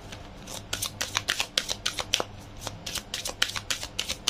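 Tarot cards being shuffled and drawn during a reading, a quick run of crisp riffling snaps and slaps that repeat steadily and close by, with a faint low hum underneath and no talking.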